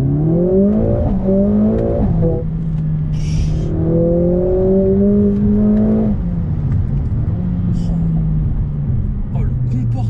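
A 2020 Mercedes A45S AMG pulls away in first gear, its engine note climbing loud and close in repeated rising sweeps, with a voice talking over it.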